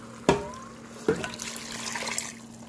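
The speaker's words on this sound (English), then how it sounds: "So I'm just going to add more of water" Water is poured into a pot of cooking pumpkin leaves and wild spinach. Two short splashing bursts are followed by a soft trickling that fades, quiet, with a faint steady hum underneath.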